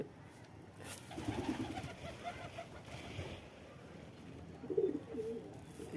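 Rock pigeons coo at a home feeding spot as they come down to eat, soft low murmuring coos rising and falling over a steady background hiss, with a brief louder burst near the end.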